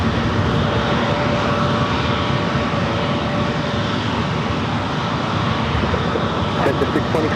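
A FedEx ATR turboprop feeder aircraft passes close by, its loud, steady engine drone filling the whole stretch, with voices talking over it.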